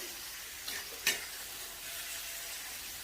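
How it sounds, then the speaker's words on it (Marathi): Sprouted moth beans sautéing in a pan over medium heat give a steady, soft sizzle, broken by two quick scrapes of a spatula. No one speaks. "परतून घ्यायचं. गॅसची आच मध्यम ठेवलेली आहे."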